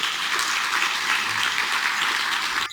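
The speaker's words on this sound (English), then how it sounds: "Let's give them a big round of applause" Dense, steady applause from an audience at a community event, continuous clapping throughout that cuts off abruptly at the end.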